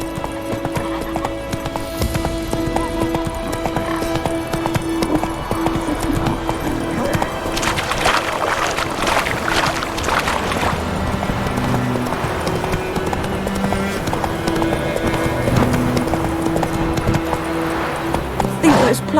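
The horse Roach galloping in The Witcher 3, rapid rhythmic hoofbeats pounding close by with an occasional whinny and jingling tack, a voice speaking briefly over them.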